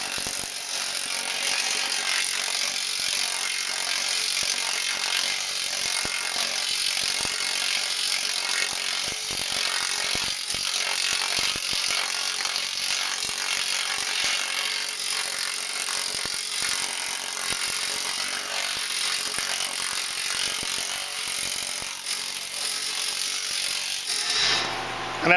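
A planishing machine runs in reverse over a sheet-metal panel, giving a steady, dense, buzzing hammer chatter at close range that holds constant before cutting off at the end.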